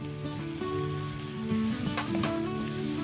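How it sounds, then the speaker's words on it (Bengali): Chopped tomato drops into a pot of sizzling ginger, garlic, onion and green chili over a wood-fired stove, a soft crackling fry with a faint steady tonal hum underneath. "এবার এর মধ্যে দিয়ে দেবো টমেটো কুচি।"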